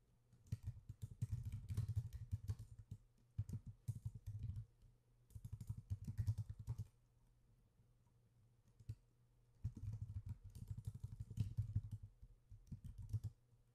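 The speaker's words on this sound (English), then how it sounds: "If I could spell while typing today." Bursts of rapid computer keyboard typing, close and clattery, come in several runs separated by short pauses, with no talking.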